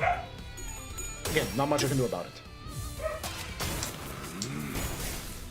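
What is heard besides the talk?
dog barking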